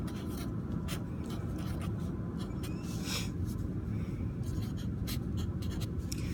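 Pen or pencil writing out a math multiplication on paper, quick scratchy strokes close to the microphone over a steady background hum, with no speech.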